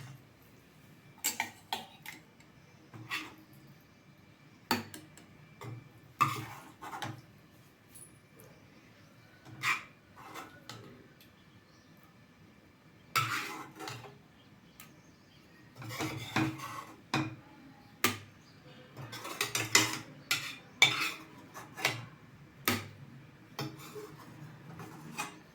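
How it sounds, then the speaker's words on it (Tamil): Onion chutney, a raw green big-onion (periya venkayam) chutney, is scraped and transferred into a vessel with utensils, giving scattered sharp clinks and taps of metal against the pot, irregular and close, with no talk. "மீதி இப்போ இது பாத்திரத்துக்கு மாற்றலாம்."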